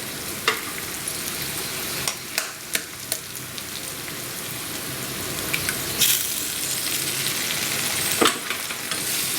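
Beaten eggs for egg fried rice sizzle steadily in a hot pan, with a few sharp scrapes and taps of a spoon while stirring; no talking.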